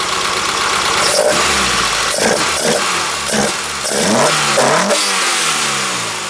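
A drift car engine revs hard through its loud muffler, climbing and falling in repeated throttle blips, close and harsh with a whirring idle between bursts.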